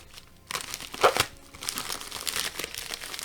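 A padded mailer envelope being folded over a book for shipping, with loud close crinkling and crumpling bursts that rise sharply and continue in rustling waves.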